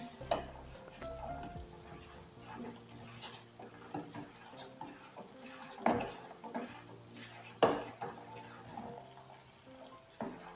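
A spoon stirs sugar into milk in a pan, giving quiet scraping and occasional sharp metallic clinks against the pan over a soft background.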